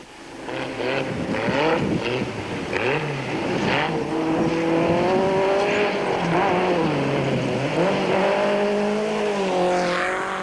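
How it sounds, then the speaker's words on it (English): Off-road race cars, a VW buggy and a Jeep, battle through the 1991 Tongaland race: loud, close engines rev and rise and fall continuously in pitch throughout. "Steve Parker and VZ Von Sale were favoured to win Class 7 in the VW buggy and were soon locked in battle with the SVM Jeep, driven by Cliff Barker and Mike Redden"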